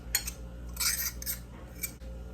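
A spoon clinks and scrapes in a bowl while mixing dried basil, thyme, salt and pepper, a few light taps and scrapes close by, with no talking.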